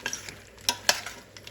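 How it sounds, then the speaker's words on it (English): A pan of vegan trofie alla primavera sizzling gently on residual heat after a splash of water, with soft crackling and a few sharp stirring clicks, quiet and close. "And just let that sizzle on residual heat."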